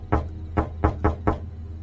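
Knocks on a wooden door, five firm raps in an uneven sequence over a low steady hum, heavy and close, with no voices.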